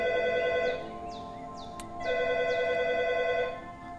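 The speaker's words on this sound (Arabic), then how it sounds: "رن." A telephone in a video game rings in two bursts of repeated electronic trills separated by a short pause, clear and close with no voices.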